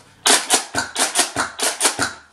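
Nerf Doomlands Double Dealer pump-action toy blaster being handled, giving about nine sharp plastic clacks in a quick, steady rhythm, loud and close, with no talking.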